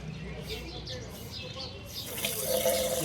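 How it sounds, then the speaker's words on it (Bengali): Tap water running into a container for carrying home, a steady splashing rush that grows fuller and louder toward the end, with voices chattering in the background. "জল ভর্তি হবে তারপর নিয়ে যাব।"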